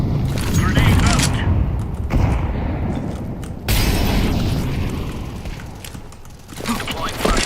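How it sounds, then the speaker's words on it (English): Grenade and incendiary blasts in a Counter-Strike match, heard as broad rumbling booms and crackling bursts that continue throughout, with voices talking over the noise. "Go. Throwing fire. Incendiary. Grenade out."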